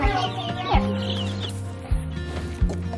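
A mother hen clucks in short repeated bursts close by, with a few sharper calls standing out over steady background sound.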